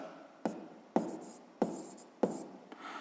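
Pen or chalk strokes writing a fraction during a sixth-grade maths exercise, four sharp taps spaced about half a second apart, each followed by a short scratchy trail, close and clear with no talk.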